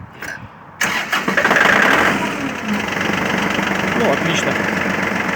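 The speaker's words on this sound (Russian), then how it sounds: "заведем, послушаем, как работает данная модель." A Kubota L-205 mini tractor's diesel engine cranks briefly, catches and settles into a loud, steady idle right up close, with someone speaking a couple of words near the start.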